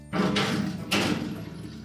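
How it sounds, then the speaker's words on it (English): Storage drawer of a Whirlpool range slid back into its guides, two close scraping, rolling pushes ending in a soft thud. "We're now ready to put our storage drawer back in place."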